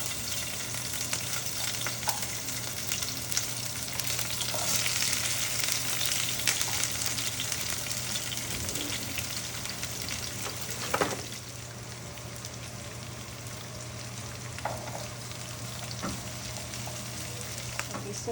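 Onions, garlic and ginger frying in oil in a saucepan, a dense, even sizzle that crackles like light rain, with occasional clicks and scrapes of a spoon and a steady low hum underneath.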